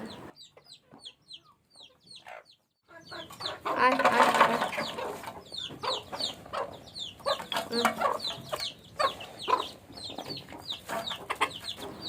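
Desi farm chickens, including two tiger hens, cluck while pecking at kalmi (water spinach) greens. Soft, close clucks and chirps come first, then livelier, steady clucking carries through the rest.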